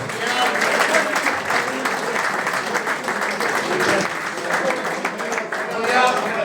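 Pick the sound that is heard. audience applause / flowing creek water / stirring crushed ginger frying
audience applause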